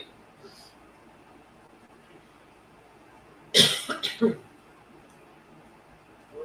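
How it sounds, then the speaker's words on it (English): A quiet room, then a short burst of three or four close coughs, followed by silence again. "I feel like another little cough attack in the morning."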